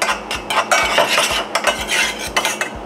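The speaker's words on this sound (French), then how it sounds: "on va ajouter nos lentilles corail à nos échalotes" Red lentils tipped into a pan of shallots, producing a busy run of close metallic clinks and scrapes from a utensil against the pan, with a faint sizzle and no speech.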